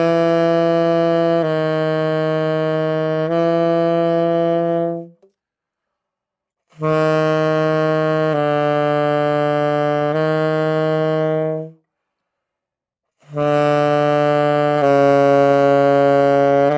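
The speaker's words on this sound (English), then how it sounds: "So with the tongue attack, it would sound a little like this." Tenor saxophone plays a low-register tone exercise with tongued attacks, three sustained phrases of stepwise held notes separated by short pauses, rich and full, played alone.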